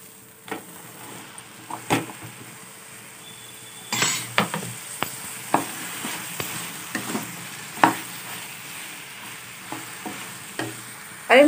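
Chopped vegetables and cooked tomatoes sizzle steadily in a pan for sambhar while a utensil scrapes and clinks against the metal in irregular stirring strokes, close by.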